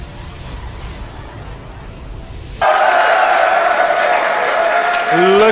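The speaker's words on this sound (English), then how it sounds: "They're really cheering for the Kwon." A StarCraft grand final audience suddenly erupts into loud applause and cheering halfway through, and the roar holds steady to the end, with voices mixed in.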